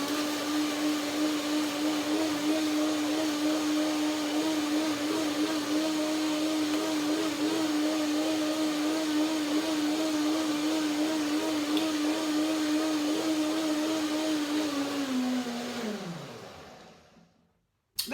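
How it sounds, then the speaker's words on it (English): A blender whirs at a steady high pitch while it purees raspberries, black currants, blueberries and bananas for a smoothie, running loud and constant before the motor spins down and stops near the end. "Let's start the blender dance to break it down."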